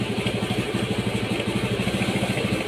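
A carbureted Honda Vario motorcycle engine idles close by with a steady, rapid, even thumping pulse under a constant mechanical hum in a repair shop, with no talking.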